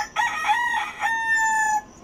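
A rooster crows loudly and close by, two drawn-out harmonic calls back to back, with no other sounds around them.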